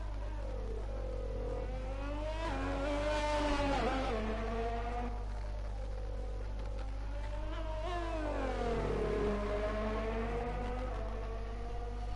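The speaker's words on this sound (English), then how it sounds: "we've now got Nubel out on an out lap. He is the single Ferrari entry for this race" A Ferrari race car in a racing video game, on an out lap at the Hungary circuit: a continuous engine whine rises and falls as it revs through the gears and corners, with no speech.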